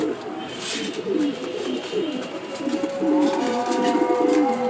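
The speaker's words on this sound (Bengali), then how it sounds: "এই যে ভাইয়ের আরও অনেক কবুতর আছে ফাঁকে দেওয়া" Racing homer pigeons cooing close by: repeated soft, rolling coos come in a steady rhythm of overlapping calls from several birds, with light background rustle.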